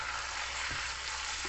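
Chicken and curry powder fry in oil with a dense, steady sizzle throughout, close and fairly quiet, with a brief soft knock partway through.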